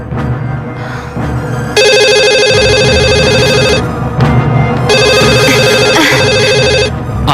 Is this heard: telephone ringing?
yes